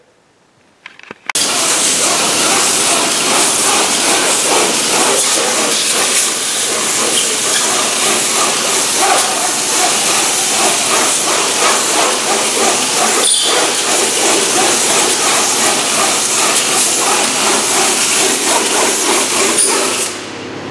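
A Cleanfix reversing fan blasts air back through a Ponsse hydraulic oil cooler in a loud, steady, close rushing roar that begins abruptly and holds for about twenty seconds, with faint rattling inside it before it cuts off.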